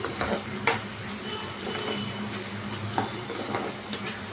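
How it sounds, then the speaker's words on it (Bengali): Basa fish and spices, including cumin powder, are sautéed in a pan in Bangladeshi style. A low, constant sizzle sits under intermittent scraping stir strokes, close and fairly quiet, with no speech. "এবার আর একবার কষিয়ে দিন।"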